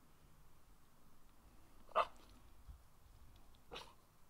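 A dog at a backpacking campsite gives two short, fairly faint barks a couple of seconds apart against quiet outdoor background.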